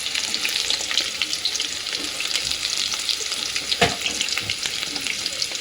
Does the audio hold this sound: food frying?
yes